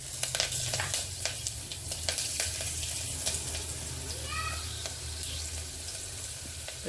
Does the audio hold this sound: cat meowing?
no